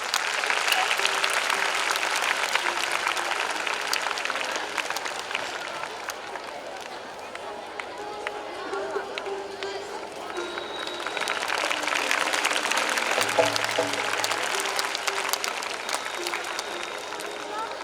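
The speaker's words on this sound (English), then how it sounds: "Please give a huge round of applause." A school event audience applauds at length, a broad wash of many hands clapping that dips slightly in the middle and swells again, with voices and some crowd noise mixed in underneath.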